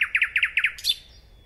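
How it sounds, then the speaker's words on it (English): Nightingale song in a short burst: a quick run of about six sharp, evenly spaced chirping notes, then a brighter trilled flourish that fades out, heard close and clear. "So the song of the nightingale is a music unlike any human music."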